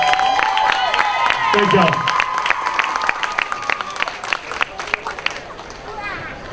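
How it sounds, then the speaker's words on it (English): Crowd applause and cheers for high school cheerleaders and a football team at a local school event, loud and sustained with a brief spoken thanks over it. "So just give another hand for our cheerleaders and our football team."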